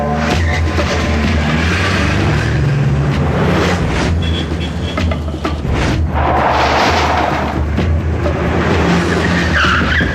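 A car in a Hindi-dubbed action movie pulls away with tyres skidding and squealing over a dense roaring engine, and booming film sound runs underneath.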